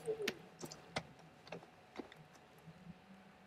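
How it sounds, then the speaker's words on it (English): Birds call in the Far Cry Primal game world, a short run of sharp, quiet chirps and clicks spaced out over a faint ambient bed, with no talk over them. "Those are birds."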